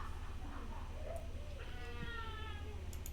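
A pet cat meows a few times during a tabletop Dungeons & Dragons session, mid-distance and moderately loud over a steady low background hum, with faint voices around it.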